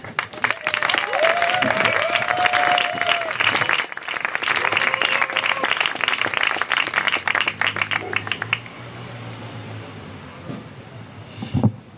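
Audience applause at a forum event, dense and sustained clapping from a crowd for about eight seconds before fading, with a voice briefly audible near the end.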